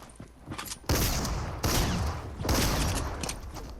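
Gunfire in Fortnite comes as three loud sustained bursts of rapid shots, each lasting under a second, separated by quieter gaps with no talking.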